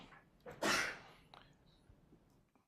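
One quick sneeze bursts out after a short inhale, a sharp hissing blast in a quiet room, followed by faint breathing.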